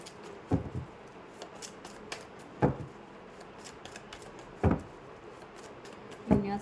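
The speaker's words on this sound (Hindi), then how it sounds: "सो तब तक मैं अपने कार्ड शफल कर लूँ, ठीक है?" Tarot cards shuffled by hand in short, crisp riffling bursts, four main flurries spaced a couple of seconds apart, close and fairly quiet against a soft background hiss.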